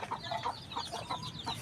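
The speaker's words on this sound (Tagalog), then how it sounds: "nakalabas na rin yung manok na yun" A backyard hen that has hatched a brood of chicks clucks in short, repeated bursts. The clucks are faint and distant over soft outdoor background noise.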